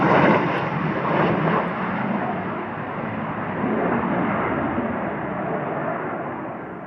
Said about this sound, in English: And this is a Typhoon.